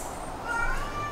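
A small kitten meows several times in quick succession, close and fairly loud, with a light jingling toy ball and room noise around it.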